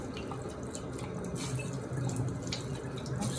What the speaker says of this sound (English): So I'm just going to dump out this dirty water.